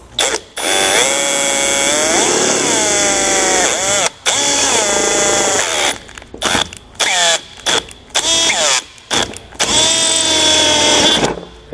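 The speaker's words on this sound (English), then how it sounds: "we're going to go ahead and enlarge our wiring hole to 1/4 inch so that way we can pass both the wires through" Power drill enlarging a wiring hole to 1/4 inch during a truck cab light install, loud whining motor bursts with pitch swells, starting and stopping in short repeated runs, no talk.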